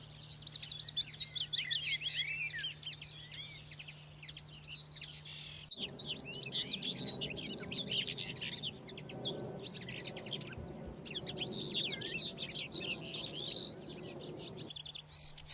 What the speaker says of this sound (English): They're busy establishing territories, and that's the function of birdsong.